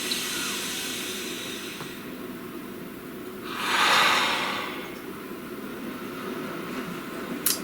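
A single slow, deep breath rises as a soft airy swell in the middle, set against a steady hiss of background noise, with a faint tick at the end.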